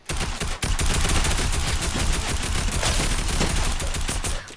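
Rapid video game gunfire rattles in a dense, loud, continuous burst of shots, near and unbroken with only a brief dip early on.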